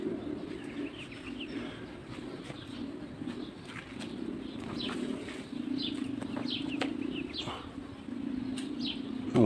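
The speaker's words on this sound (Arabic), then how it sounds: "دي عصفور ده اللي بياكل منه كده" A sparrow calls from high in a date palm tree in an Egyptian grove. Faint, scattered chirps come and go over a steady low background drone, with no one speaking.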